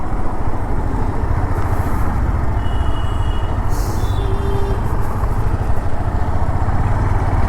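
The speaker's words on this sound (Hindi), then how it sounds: "सर्विसिंग के बाद बाइक बहुत स्मूथ चल रही है अभी" Honda CB300F motorcycle running smoothly just after servicing, a steady continuous engine drone with road and wind noise at constant loudness, no speech.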